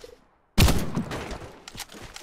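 Cobray Striker shotgun in the shooter Warface firing rapidly, a loud sudden blast after near silence followed by a quick string of booming shots with fading reverberation.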